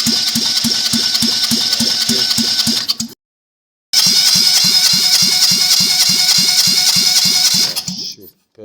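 Toyota 1KR 1.0-litre three-cylinder single-port engine cranking on the starter during a compression test, with steady rhythmic pulses in two loud bursts separated by a short silence.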